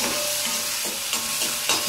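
Tomatoes sautéing in a pan for radish sambar, a steady hissing sizzle with a few soft stirring scrapes, close by.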